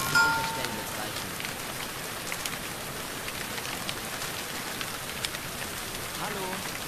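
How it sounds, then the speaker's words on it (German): Steady rain shower in the video game Everlight, a dense, even hiss of falling rain with scattered droplet patters, continuous and fairly loud throughout with no talking. "dann hört man schon mal den Regenschauer hier."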